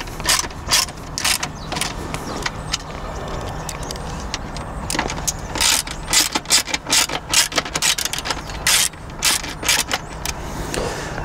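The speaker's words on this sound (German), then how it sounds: "Jetzt müssen wir hier diese 4 Schrauben lösen, damit wir an die Halterung hier vorne rankommen." Screws being loosened with an Allen key on a Vespa GTS 300 HPE scooter: close, sharp metallic clicks and ratchet-like ticks in uneven bursts over a low, steady background.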